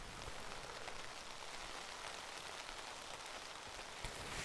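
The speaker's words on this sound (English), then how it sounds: "I'm just going to lie back and relax listening to the sound of this rain for a bit." Steady rain falls on a tent during wild camping on a cloudy mountain ridge, a dense even patter filling the whole stretch with a few slightly louder drops, no voices.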